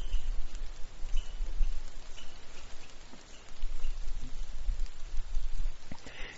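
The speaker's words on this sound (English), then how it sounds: "I don't mind the sound of the rain for now" Steady rainfall patters and hisses on outdoor surfaces, a close, continuous wash of drops that swells and eases in loudness, with no voices.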